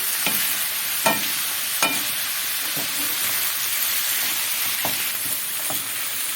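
Food sautéing in a pan while cooking a Ramadan béchamel dish, a constant bright sizzle with scattered scraping taps as it is stirred, close and fairly loud, with no talking.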